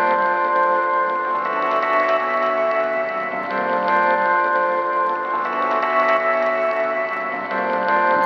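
A sustained, bright musical tone with echoing repeats that smear into a long reverberant wash, delay feeding into reverb, steady and fairly loud throughout.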